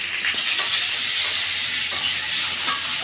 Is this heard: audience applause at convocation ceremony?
no